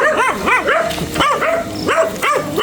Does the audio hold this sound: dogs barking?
yes